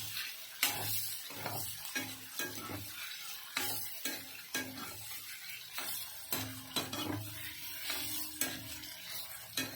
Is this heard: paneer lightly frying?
yes